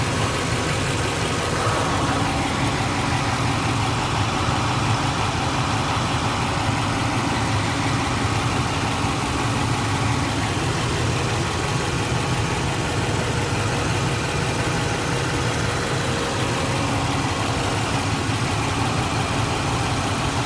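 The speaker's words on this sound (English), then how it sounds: "we've had the vehicle running" A 2010 Ford E250 van engine idles with a steady, loud, unbroken rumble that holds even throughout, with no voices.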